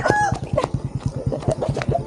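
A chicken clucks in a quick, steady series of short close notes, with a few higher squawks mixed in, loud and near with no talking.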